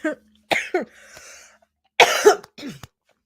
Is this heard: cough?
yes